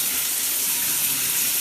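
Water sprays steadily from a shower head just cleared with vinegar and a welding tip cleaner, a continuous even hiss running alone at close range.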